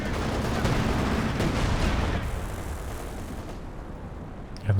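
Howitzer artillery fire in Company of Heroes 2 during a 2v2 battle, a dense rumbling barrage of blasts and gunfire for the first couple of seconds that thins into a fainter background rumble, with one more thump at the very end.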